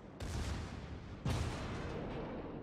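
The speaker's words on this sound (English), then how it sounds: "Not that they are doing much, but they can at least fire some shells." Secondary guns on a Nelson battleship fire shells in World of Warships, heard as two fairly faint, booming reports about a second apart, each with a long rumbling tail.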